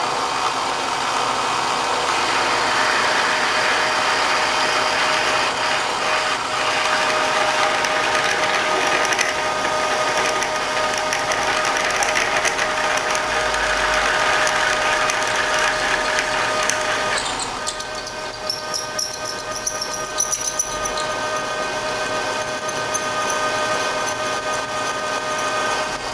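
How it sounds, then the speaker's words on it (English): Drill press fitted with a 1/2 inch bit running at about 200 RPM, boring into a sedan front A-arm. A loud, steady mechanical whir and grind continues without a break, and the pitch shifts near the end. "We've got a 1/2 inch drill installed in the machine"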